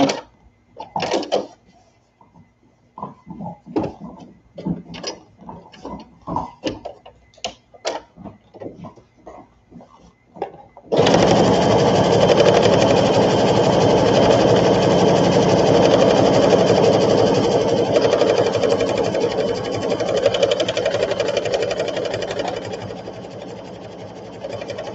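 Sewing machine stitching a baby sunsuit, at first in short stop-start bursts, then running steadily and loudly for over ten seconds before easing slightly toward the end.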